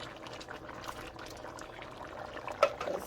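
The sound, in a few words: lima beans and kidney beans poured into boiling gravy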